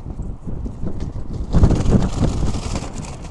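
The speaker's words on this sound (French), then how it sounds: "Il y a du vent, il y a du vent." Blustery wind buffets the microphone outdoors, rumbling low and rising in strength partway through, with no voices.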